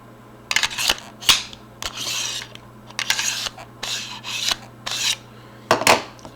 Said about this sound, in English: You could also kind of hear how it's rubbing up against the pistol too.